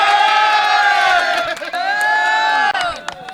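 A crowd at a Qurbani cattle market at Hazratpur haat lets out a loud, sustained cheer of overlapping shouting voices that briefly dips and then swells again.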